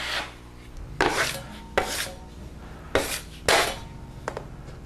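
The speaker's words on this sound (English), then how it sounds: "You can spot a screw by just hitting one spot at a time." A drywall knife spots screw heads with joint compound, giving about five sharp scraping strokes at irregular intervals, each a quick rasping swipe against the wall, close up with no talking.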